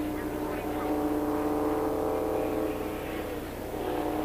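NASCAR stock cars race in heavy rain at the 1983 Winston Western 500, a steady droning engine roar holding for several seconds with a slight swell in the middle.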